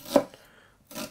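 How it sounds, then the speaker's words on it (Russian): A sharp knife chops fresh onion finely on a board for chicken cutlets, giving one close, crisp cut with a brief scraping tail and then another cut beginning. "для того, чтобы максимально мелко порезать лук, нужно острый нож, ну и резать просто тоньше"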